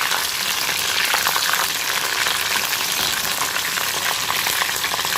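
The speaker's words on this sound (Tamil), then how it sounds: "இப்போ பாருங்கள் சிக்கன் நல்லா வெந்துக்கிட்டு இருக்கு" Chicken 65 pieces fry in hot oil in a pan, giving a loud, dense, continuous sizzle and crackle that stays steady throughout, close up, with no talking.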